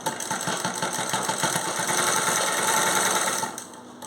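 Sewing machine stitching a pant zipper, a steady fast mechanical whir running continuously for about three and a half seconds before tapering off, close and fairly loud with no talking.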